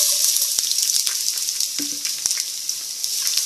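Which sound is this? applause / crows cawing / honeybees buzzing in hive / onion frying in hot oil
onion frying in hot oil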